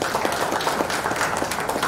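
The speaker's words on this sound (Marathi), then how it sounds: "एकदा जोरदार टाळ्या होऊ द्या" Audience at a children's poetry gathering applauding steadily, a dense even wash of many hands clapping with no pauses or voices standing out.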